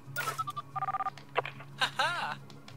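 Phone tones in Planet Coaster, a video game: scattered beeps, then a burst of even dial-tone pulses and later warbling electronic trills, moderately quiet over a steady low hum with brief voice-like blips.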